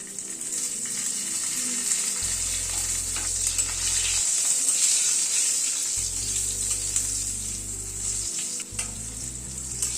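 Potato pieces fry in hot oil in a pan for a pumpkin-leaf chorchori, with a steady, loud sizzle throughout and occasional soft stirring scrapes.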